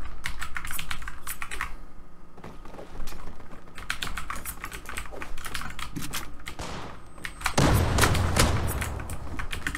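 Rapid computer keyboard typing and mouse clicks from someone playing the shooter Zula, close and crisp, with in-game gunfire bursting loudly near the end.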